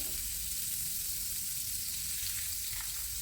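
Steady, continuous sizzling of margarine melting in a hot frying pan before chicken is fried, an even crackling hiss that holds throughout with no voices.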